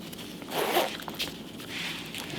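A zipper on a DIY watch club travel case slides open in two quick, close pulls, crisp and near, with no speech.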